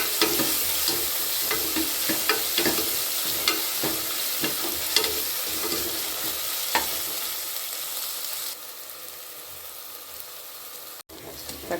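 Two medium tomatoes sizzle and hiss steadily in a pan while a utensil stirs and scrapes through them in frequent close clicks, the frying quieting slightly near the end.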